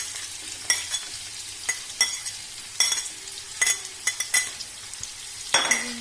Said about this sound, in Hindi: आधा कप ऑयल डाल लें और इस ऑयल में प्याज डालें बारीक कटे हुए।